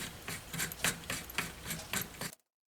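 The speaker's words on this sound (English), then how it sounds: "And I'm going to drill a hole through it." Drill boring a hole through a cast glue grommet, a close, gritty rasping in regular pulses that stops abruptly.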